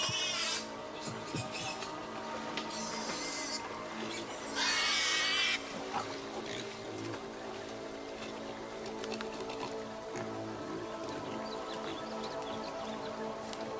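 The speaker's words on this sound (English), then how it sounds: "the pigs help them survive" Pigs brought along by Spaniards on a jungle journey grunt and oink quietly amid a soft, busy outdoor background with scattered clicks and a short hissy burst.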